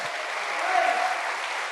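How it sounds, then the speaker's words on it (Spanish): A church congregation claps together in a dense, steady burst of applause that swells slightly and stays even throughout, filling the room. "Dele un fuerte aplauso a Dios."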